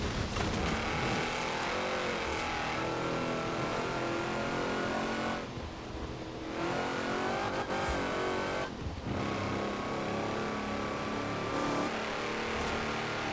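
Shelby 1000 with a maxed-out tune driven in Forza Horizon 4, its engine roaring steadily loud throughout, with revs rising and falling across gear changes and two short lifts in the drone.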